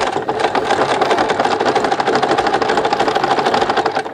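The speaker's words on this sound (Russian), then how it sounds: "Строчим." A sewing machine stitches the hem of boxer shorts, running steadily at speed with a fast, even mechanical rattle and hum, loud and close throughout with no pauses or talking.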